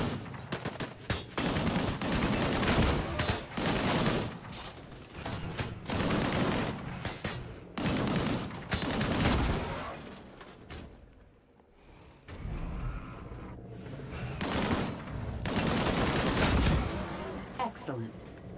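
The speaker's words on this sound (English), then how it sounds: "Engage the enemies ahead using your primary weapon." Weapon fire in the shooter game Disintegration comes in repeated loud bursts with brief gaps, over a constant battle and engine-like rumble and a faint voice.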